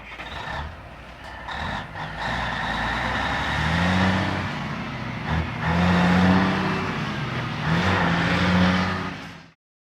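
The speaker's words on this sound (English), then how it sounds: "This is the sound a truck makes." A truck engine rumbles and revs at close range, the low drone rising and falling with several brief surges in pitch, and the sound carries on without pause for about ten seconds.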